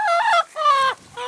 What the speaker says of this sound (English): there's more quite sort of fancy chickens down there